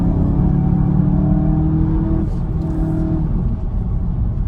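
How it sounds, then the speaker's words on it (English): A VW Golf GTI mk7.5 in sport mode is driven through a series of turns, its engine a steady, loud rumble throughout with a faint whir above it. "we put it in sport mode. We're going to do a couple more of these turns and just see what it feels like in sport"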